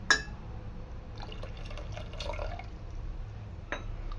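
Mutton stock poured into a spiced masala for Kolhapuri white rassa makes a steady liquid splash and gurgle over a low background rumble. It runs for a few seconds with no one talking.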